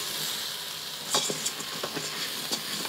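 Rice sauteing in rendered chicken fat, a steady broadband sizzle throughout, with a few crisp stirring scrapes and pops later on, close and without talk.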